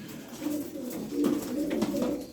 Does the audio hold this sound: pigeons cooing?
yes